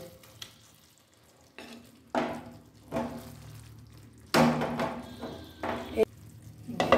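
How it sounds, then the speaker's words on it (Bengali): Fried paneer pieces being placed one by one into a pan of spiced gravy, each addition bringing a fresh burst of sizzling and stirring clatter between quieter gaps, with a voice talking at times. "এবারে আমি এই ভেজে রাখা পনিরের টুকরোগুলো দিয়ে দেব।"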